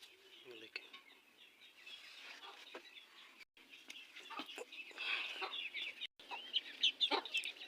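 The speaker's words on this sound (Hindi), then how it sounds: "मुर्गी ने एक अंडा दिया हुआ है।" A hen clucks in short, scattered bursts, fairly faint and close, with a few sharper calls toward the end over quiet background.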